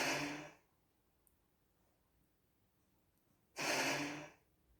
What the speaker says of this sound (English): F9 is the compressor air let off.